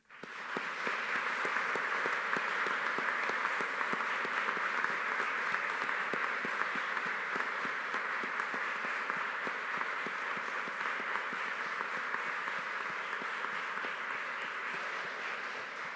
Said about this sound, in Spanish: Aplaudamos este logro.